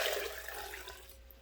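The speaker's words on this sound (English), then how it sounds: "I'm just going to pour my rice water in there." Rice water poured from a pot into a washed measuring bowl container at home, a close liquid splash that starts strong and gradually thins out over a second and a half.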